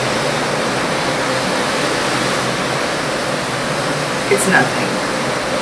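Steady broadband rush of open water heard from the balcony deck of the Carnival Liberty cruise ship at night, continuous and even throughout, with a brief spoken voice near the end.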